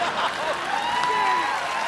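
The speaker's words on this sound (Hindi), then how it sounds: "देख, ताली मारेगी।" A studio audience at a comedy show claps and cheers, a brief continuous burst with a voice rising faintly over the crowd.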